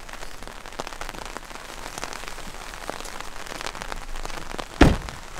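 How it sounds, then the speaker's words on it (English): Steady patter of rain striking a taut surface overhead, dense and continuous, with a sharp thump near the end; no voices. "That is the rain hitting the umbrella."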